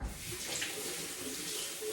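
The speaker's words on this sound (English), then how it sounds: "let me wash my hands" Hands washed under a running kitchen sink tap, a steady close stream of water splashing continuously without pause.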